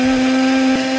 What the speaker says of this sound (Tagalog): Tapos syempre, i-blender na natin.